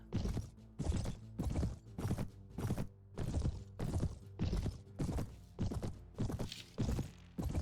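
Rhythmic hoofbeats of a horse galloping in the video game Mount & Blade: Warband, about a dozen heavy thuds at an even pace, clear and close with no talking.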